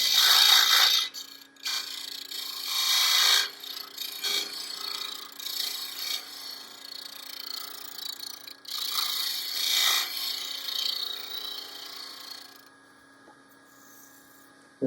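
Steady rasping and scraping of a tool smoothing a ridge on a wooden sphere being turned, with a few short pauses and bursts, fairly close and with no voices.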